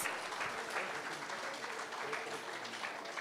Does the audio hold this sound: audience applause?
yes